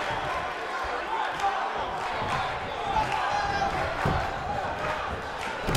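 Crowd in the WWE 2K19 wrestling video game cheering a showboating wrestler during an NXT match, a steady roar of arena noise with a commentator talking over it.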